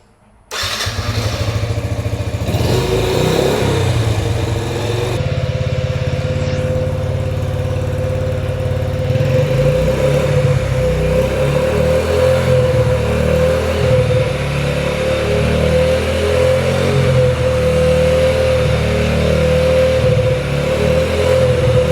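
A Yamaha Raptor ATV engine cranks and catches, then settles into a loud, steady, close-up running drone with a sustained buzzing tone and a rough, pulsing low rumble.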